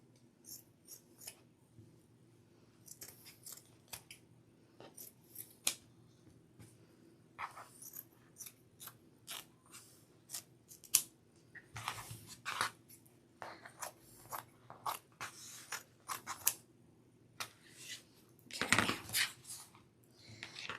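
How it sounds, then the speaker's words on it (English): Scissors snip through craft material for a heart-shaped wreath, many quick close cuts in irregular clusters with brief pauses, fairly quiet, one louder crunching snip near the end. "so I'll trim off some of this excess."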